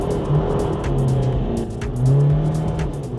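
A BMW 430d with an N57 diesel engine rated at 454 bhp spins its wheels while launching in a drag race, a loud, close engine roar with rising and falling revs and tire noise.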